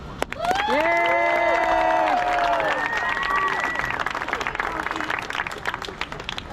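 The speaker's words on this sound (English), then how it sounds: "round of applause" Crowd applause at a high school water polo senior night, loud steady clapping with whoops and cheering voices near the start, continuing at even volume before tapering slightly.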